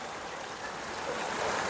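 Water from a river beside a highway rest stop near Gua Tempurung, Malaysia, flowing from the Bukit Wangsa range, makes a steady broadband rush that stays constant and fairly near, with no voices.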